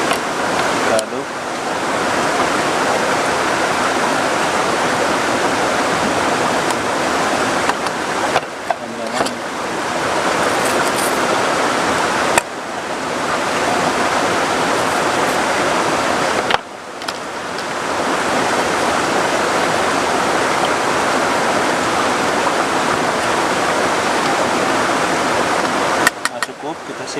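Heavy rain pounds down around a hut in a rice field beside a river: a dense, steady roar that fills the whole stretch, with only a few brief dips in intensity.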